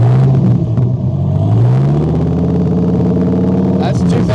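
Dodge Viper fitted with a Belanger exhaust revs up to about 2,000 RPM, a loud, deep rumbling engine note that builds and holds steadily, with people talking over it.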